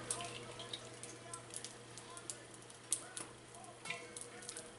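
Chile peppers blistering in a hot pan give a faint, steady sizzle with scattered small pops and crackles throughout.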